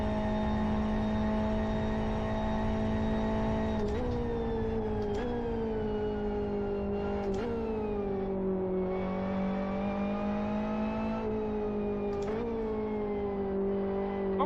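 Racing car engines in the Live For Speed video game, Japanese cars such as Honda Civics, Evos and Imprezas, revving loudly and steadily throughout, with pitch rising and dropping at each gear change.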